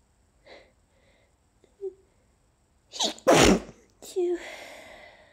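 Stifled allergy sneezes from one person: a couple of faint breaths and small sounds, then a sharp, loud burst followed by another wheezy release, close to the ear with no talk.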